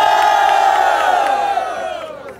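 Crowd at a Brazilian rap battle roaring and shouting in a loud, sustained wave of massed voices that gradually fades over a couple of seconds.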